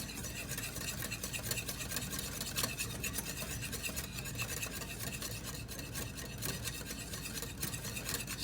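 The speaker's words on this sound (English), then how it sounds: "Now we're looking for a steady stream of oil. We'll just keep incorporating that into our mayonnaise." Oil being whisked into mayonnaise in a garde manger kitchen lab, a steady, close scraping and swishing rasp of the whisk against the bowl that continues without pause.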